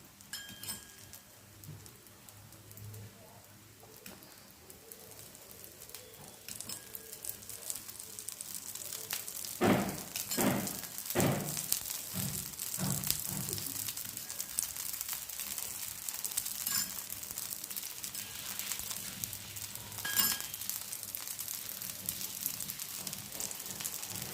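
Oil poured over an uttapam cooking in a pan starts a soft hiss that swells into a steady, crackling sizzle, with a few sharp spattering bursts along the way and no talking.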